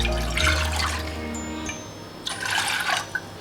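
About one and a half cups of water is poured for a rice flour dough in two separate splashing pours with a short pause between them, close by and with no one talking.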